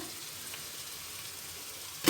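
Meatball broth for Turkish sulu köfte boils in a pot, giving a steady, close bubbling hiss that ends with a short knock.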